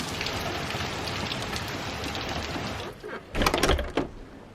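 Heavy rain pours down outside in strong wind, a steady dense hiss of drops close by, followed near the end by a few louder knocks and rattles.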